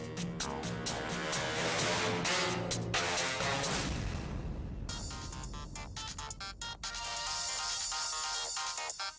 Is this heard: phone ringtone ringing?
yes